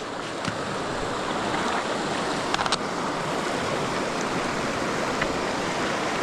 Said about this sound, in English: A creek fording, and it is dark, so we'll see how deep this little guy is.